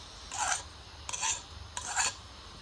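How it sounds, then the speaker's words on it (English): A hand file rasps across the burred end of a steel pipe in three distinct strokes, close and crisp, with short pauses between them. "I take a file and clean up, try to get the burrs off of this end."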